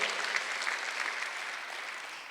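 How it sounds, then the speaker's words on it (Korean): A church congregation applauding during a Sunday worship service, steady dense clapping from a crowd that holds evenly and tapers slightly at the end. "박수하세요."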